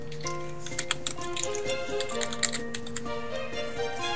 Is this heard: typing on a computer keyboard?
yes